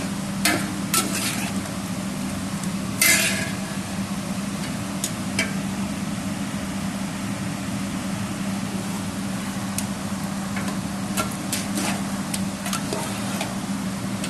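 Chicken karahi sizzles steadily as it is stir-fried in masala, Peshawar street style, with a constant low frying hiss and a few sharp clinks of a spoon against the pan.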